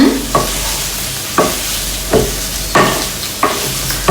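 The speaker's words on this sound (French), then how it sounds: "Donc remuez bien le tofu." Tofu fries in a pan while being stirred, giving a constant loud sizzle broken by regular scraping strokes of a utensil roughly every half second to second, close up and with no talking.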